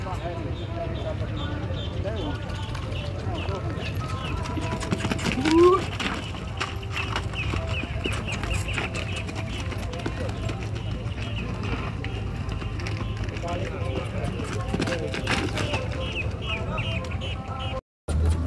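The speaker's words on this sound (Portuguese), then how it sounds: "apresentando a feira de cavalo aqui de Caruaru" Horses at a horse fair in Caruaru, Brazil, give off faint, scattered hoof clops and movement beneath crowd murmur and someone talking nearby, amid an ongoing busy outdoor hum.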